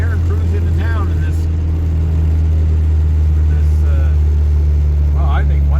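A Mitsubishi Dodge Challenger with a 2.6-litre 4G54 engine drones steadily and loudly from inside the cabin while driving, with someone talking over the engine throughout.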